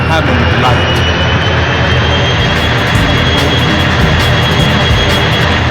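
A loud, continuous jet aircraft engine roar from the PS1 game 007 Racing fills the whole stretch, a dense steady rush without letting up.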